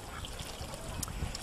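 Water trickles steadily through a homemade pond filter built from a 5-gallon bucket packed with filter media, fed by a solar-charged battery-powered pump; a soft, continuous close-up dribble and splash with no talking.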